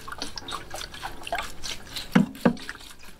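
Water poured onto a homemade worm compost bin gives a soft trickle with scattered drips and two sharper splashes near the end, close and fairly quiet.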